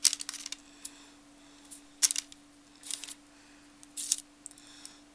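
A small pair of scissors snips loose threads on a paper snowflake and butterfly craft, giving several short, crisp separate clicks spread over a few seconds against a faint steady hum.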